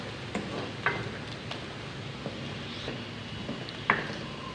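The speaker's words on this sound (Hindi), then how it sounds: "तो यहाँ पे प्याज़ों को हमने लाइट गोल्डन ब्राउन करना है।" Onions fry in a pan for spicy potato keema, browning toward light golden with a soft, steady sizzle. Occasional clicks and scrapes of stirring come through at a low level with no talking.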